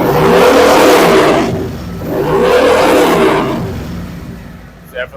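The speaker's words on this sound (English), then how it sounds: "Give you guys a few revs." Harley-Davidson motorcycle with new head pipes revving hard in a garage, two long loud throttle swells rising and falling with a deep rumbling roar, then settling to a lower idle.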